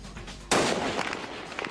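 A sniper rifle shot cracks out once, sudden and loud, as the round punches through a glass window, then a short decaying rumble follows with no speech.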